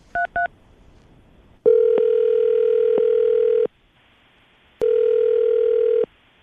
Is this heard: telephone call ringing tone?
yes